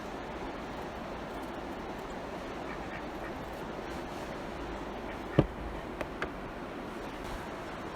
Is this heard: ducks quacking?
yes